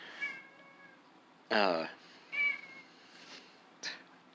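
A needy cat meows repeatedly in several separate calls, one loud drawn-out cry in the middle among softer shorter meows, close by, with a brief bit of speech.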